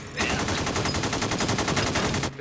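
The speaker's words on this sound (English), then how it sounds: "They're shooting hundreds of rounds." Police-recorded gunfire from AK-47 assault rifles during a bank robbery shootout in North Hollywood: a dense, unbroken burst of rapid automatic shots, loud and continuous for over two seconds before cutting off abruptly.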